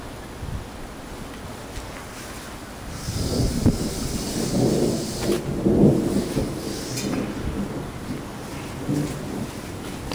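A thunderstorm over mountains near Raton, New Mexico, with rain falling steadily while a deep, rolling rumble of thunder swells in the middle and fades slowly.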